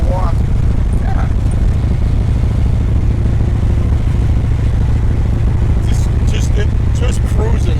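A big-block V8 in a 1966 Chevrolet Biscayne with a five-speed idles with a loud, deep, steady rumble close by, while a dog yips and people talk faintly in the background.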